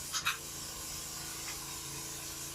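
A spray gun applying two-part spray foam onto a roof, the liquids mixed in the nozzle, gives a steady, soft, continuous hiss. Two quick clicks come at the very start, and no one speaks.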